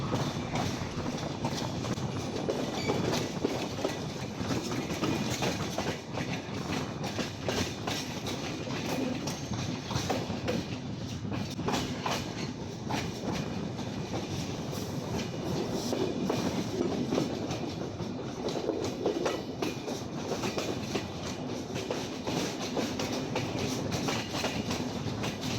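Continuous rumble and rhythmic clatter of a passenger train running from Saidpur to Santahar in Bangladesh, heard from inside the carriage at steady, moderately loud level for the whole stretch, with no talk.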